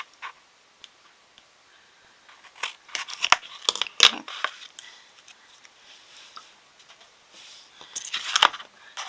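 Scissors snip and trim material in a quiet room, with faint clicks at first, then a cluster of sharper close cuts and rustling, and another burst near the end.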